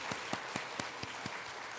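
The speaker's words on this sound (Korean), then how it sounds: "우리 주님께 영광의 박수" A church congregation claps during a worship service in regular, evenly spaced beats, about seven claps in under two seconds, faint and somewhat distant.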